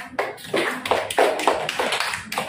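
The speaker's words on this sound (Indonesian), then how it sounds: "tepuk tangan kelompok 3" A classroom of primary school pupils claps together for a group, giving a quick series of sharp, rhythmic hand claps in short bursts with no talking.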